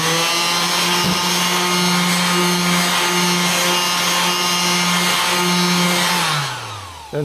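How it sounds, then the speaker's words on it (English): Wood being sanded with a power sander fitted with worn sandpaper, a loud steady whining hum with a constant gritty rasp that runs unbroken and then winds down at the end. "And then we should be all good with the sanding."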